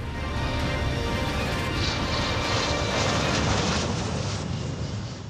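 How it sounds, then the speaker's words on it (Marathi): An Indian MiG fighter jet roars steadily and loudly, a continuous broadband engine rush that swells slightly toward the middle and eases off at the end, with no voices. "पाकिस्तानचं F-16 पाडणारं भारतीय मिग"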